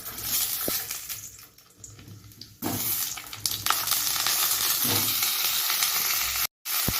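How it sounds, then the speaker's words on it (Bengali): Pointed gourd (potol) pieces frying in oil in a wok, a close, bright sizzle with sharp clinks and spatters, briefly quieter before resuming loudly, with a short silent break near the end. "তো চলো পটলগুলো আমি ভেজে নিই"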